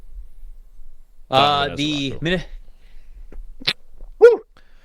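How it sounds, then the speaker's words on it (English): A short burst of sneezing from a person close by, followed by quieter sniffing and a faint squeak. "Sorry, sneezed."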